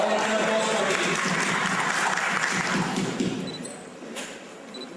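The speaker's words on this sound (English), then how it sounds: "All in applause for the team." Audience applause for a quiz team at a school olympiad quiz show, a dense, steady crowd clapping that holds loud for several seconds before thinning slightly toward the end.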